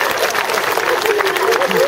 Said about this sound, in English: Give her a really big round of applause